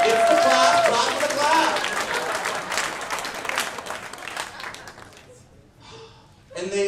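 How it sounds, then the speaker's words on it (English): Comedy club audience at a drag comedy show breaking into loud applause and cheers, dense clapping that slowly thins out and fades before a brief final burst. "Clap for that!"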